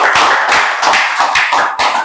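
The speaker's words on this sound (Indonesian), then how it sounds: "tepuk tangan dulu sekali" Audience applause in an Indonesian leadership training class, a dense burst of many hands clapping steadily and close for about two seconds, with no voices over it.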